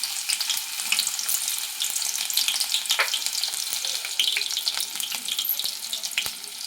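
Onion pieces fry in a pan with a bright, hissing crackle that keeps going throughout, while faint clicks and scrapes of handling the pan come through now and then.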